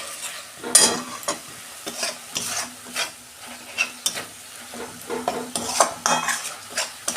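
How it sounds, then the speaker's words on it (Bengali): Banana flower and prawns with turmeric and salt are stir-fried in a pan, with repeated scraping spatula strokes and clinks over a soft sizzle, irregular in rhythm and close by. "দিয়ে আমি ভালো করে কষাবো"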